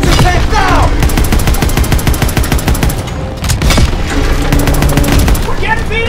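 Loud World War II tank battle in Call of Duty WW2 at Aachen, with continuous machine-gun rattle, heavy booming blasts and shouted voices over the din, barely pausing midway before the firing resumes.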